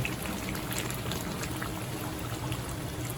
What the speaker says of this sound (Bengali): আমি এতে অল্প পরিমাণে গরম জল অ্যাড করব